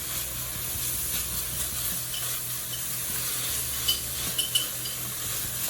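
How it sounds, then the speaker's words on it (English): Arroz con pollo with medium ground rice being stirred in a Dutch oven, a steady soft sizzle and bubbling under scraping spoon strokes, with a few faint metallic clinks near the end. "let's stir that around"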